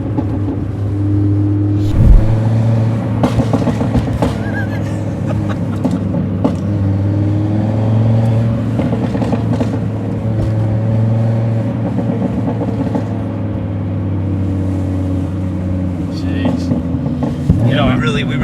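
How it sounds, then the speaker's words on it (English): A tuned Volkswagen Golf R five-cylinder engine, APR Stage 3+, hums with a steady low drone, punctuated by occasional sharp pops and crackles from the exhaust, heard close up from inside. "This car just makes all like the right sounds, you know, the pops, the 5-cylinder sound."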